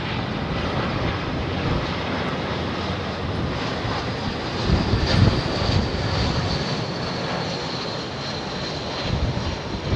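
An Airbus A319 arriving on runway 27R at Heathrow, a loud, continuous broadband jet roar with wind buffeting that swells slightly midway.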